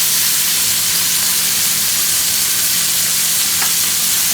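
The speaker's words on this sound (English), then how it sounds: "Move these burger patties off to the side here. Make some room for the buns." Burger patties sizzle steadily on a hot burner grill beside buns set on the same heat, a loud, continuous close-up hiss and crackle with no talking.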